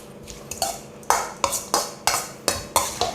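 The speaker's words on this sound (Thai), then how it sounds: "คลุกให้โดนน้ำยำสักนิดนึงก่อนนะครับ" Lemongrass pork salad tossed in dressing makes a series of quick, regular clinks and scrapes of a utensil against a bowl, about eight sharp hits, close and alone.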